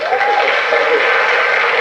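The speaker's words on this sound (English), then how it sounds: "I think that deserves a round of applause, ladies and gentlemen" Studio audience applause following a jazz pianist's performance on a television talk show, dense and steady clapping at close range throughout.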